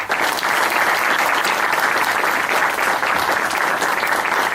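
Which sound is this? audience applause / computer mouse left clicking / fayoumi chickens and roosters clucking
audience applause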